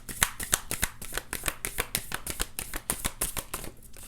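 Tarot cards being shuffled in quick repeated riffles and flicks, a steady rhythm of close, crisp papery snaps lasting several seconds with no voices over them.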